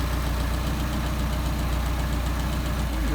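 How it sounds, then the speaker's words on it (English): An engine fed by a Solex 44PHH carburetor runs close by during carburetor adjustment, a steady rough idle with a low, even drone and faint knocking pulses that stays constant throughout. "Engine stumbling again, back it in."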